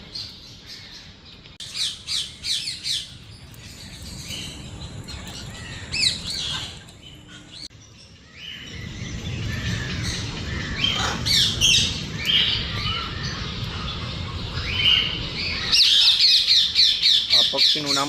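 Rainbow-coloured parrots squawking at a zoo, repeated harsh calls and chirps near and far over outdoor crowd noise and some talking.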